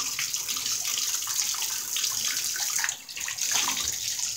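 Shower water runs steadily and close by as a hot-water stream pours for a pet's bath, a broad continuous hiss that dips briefly midway before resuming at full strength.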